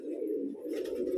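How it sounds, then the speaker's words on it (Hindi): A pigeon in Bijnor, Uttar Pradesh gives a single close, low, continuous coo that lasts about a second, alone and clear. "ये देखिए आप, एक कबूतर ये है।"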